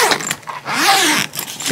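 A zipper pulls closed on a packed travel bag in a few quick rasping strokes, close and fairly loud, with the fabric rustling between pulls.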